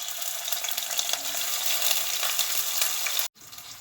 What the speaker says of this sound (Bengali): তেল গরম হয়ে গেছে, পেঁয়াজ দিয়ে দিচ্ছি